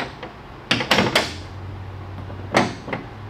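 Honda S800 door handle worked to lock and unlock: a few quick close mechanical clicks and clunks in a short burst, then one more click after a pause, over a low steady hum.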